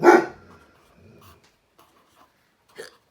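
A single sharp dog bark up close, followed by faint small sounds and a second softer yelp near the end.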